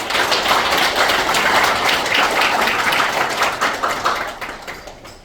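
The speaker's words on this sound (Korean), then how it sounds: "우리 국민들 미래를 향한 큰 박수 한번 부탁드리겠습니다" Applause from the audience at a residents' assembly, loud dense clapping close by that stays strong for a few seconds and then tapers off toward the end.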